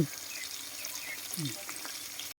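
Fish sizzles steadily in hot oil in a pan, with a brief stirring scrape and soft clinks over a constant crackling hiss that cuts off abruptly at the end.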